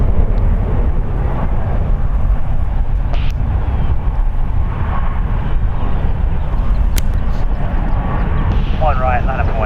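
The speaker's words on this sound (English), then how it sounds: "Alaska Airlines Flight 592. It's taxiing to the one runways as we speak." An Alaska Airlines jet airliner taxiing at San Francisco International Airport, a steady loud low engine rumble with wind buffeting, continuous throughout, while a voice talks over it.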